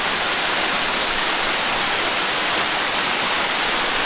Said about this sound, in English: literally standing on a ledge right next to this waterfall.